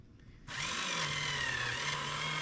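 Small Tyco slot car motor spinning the axle of a Magnum 440X2 Corvette, a faint, steady high whir that starts abruptly and runs evenly.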